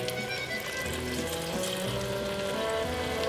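White wine poured into a pot of simmering French onion soup, a steady broadband sizzle and rush of liquid hitting hot onions, continuous and close for a few seconds with no talking.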